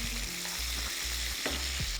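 Shrimp sizzle loudly in margarine in a pan, a steady close crackling hiss broken by a few soft scraping stirs, with no voices.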